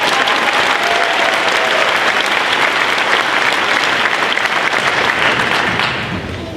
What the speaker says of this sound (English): can we get another round of applause for that amazing speech?